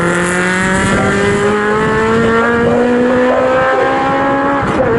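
Legends race cars racing at Snetterton, loud sustained engine roar with rising and falling pitch as several cars drone past close together, continuous throughout.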